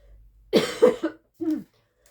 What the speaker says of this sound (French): j'en ai marre de tousser toute la journée